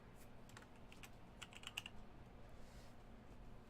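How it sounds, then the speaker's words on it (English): Fingers tapping on a computer keyboard, a quick irregular patter of light key clicks with a brief denser burst in the middle, close by and fairly quiet. "I'm typing on our notepad just as we're having this stream of consciousness"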